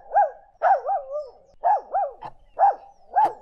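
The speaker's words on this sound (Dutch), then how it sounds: "Zoals een hond die de hele dag door blaft." A dog barks in a steady series of about six sharp, close, loud barks, evenly spaced with short pauses and no voices over them.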